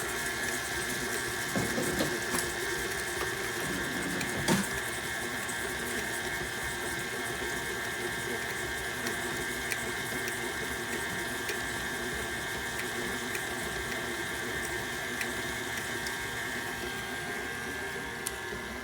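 An electric mixer runs at medium speed, creaming butter and sugar in a bowl. The whir is steady and continuous, with faint clanks throughout and no speech.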